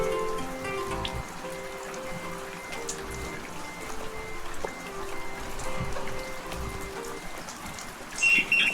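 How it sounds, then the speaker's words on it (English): Rain patters steadily near a boat ramp during a kayak fishing outing, a soft continuous hiss with scattered drops, faint and even throughout, with a brief louder rustle near the end. "Get out of the rain for a while."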